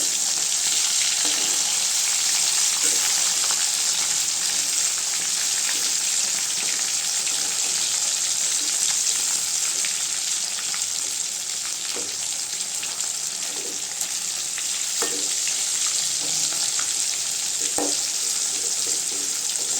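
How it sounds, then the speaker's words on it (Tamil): Kilanga fish fry sizzling in a pan of hot oil, a steady loud hiss with occasional spatters and soft scrapes as the pieces are turned, no talking. "அடுத்த சைடு வேகட்டுங்க கிழங்கா மீன் வறுவல் ரெடி ஆயிடுச்சுங்க"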